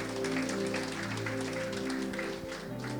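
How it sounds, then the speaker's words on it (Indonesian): A church congregation applauds during a Sunday service, a soft, sustained patter of clapping heard at a distance over a steady tonal background. "Kita kasih tepuk tangan dulu buat Tuhan."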